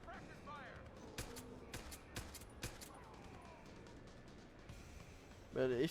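Bursts of suppressive gunfire from Deus Ex: Human Revolution, a few sharp shots scattered over a quiet background, with muffled game voices and a louder clatter at the end.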